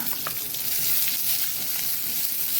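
Onion tossed into hot oil with garlic and curry leaves for a Karavali cabbage onion sukka, a steady close sizzle and crackle of frying that holds evenly throughout with no voices.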